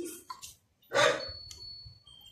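A dog barks once loudly nearby amid a few fainter yips and outdoor noise.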